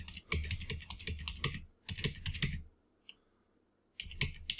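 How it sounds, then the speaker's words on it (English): Keys clatter on a computer keyboard in short quick bursts of typing and presses, separated by pauses, with a single isolated click in the quiet gap; close and fairly soft. "I'm going to hit my caps lock and type in A, enter, B, enter, C, enter, and go through the whole alphabet."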